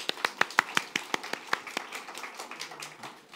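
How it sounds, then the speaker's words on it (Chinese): A church congregation gives a short round of encouraging applause: sharp, distinct hand claps in a quick irregular rhythm that thin out and fade to a soft patter. "我们再给他一个鼓励的掌声。"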